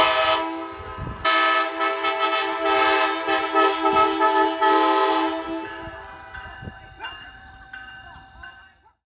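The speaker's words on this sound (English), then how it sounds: "my brother's minivan, which is equipped with a PVC K5 LA, a Graham White E-Bell, ditch lights, and a headlight" A minivan fitted with a PVC K5LA train horn and a Graham White E-Bell sounds a loud, sustained multi-tone horn chord for about five seconds, then fades into fainter ringing tones.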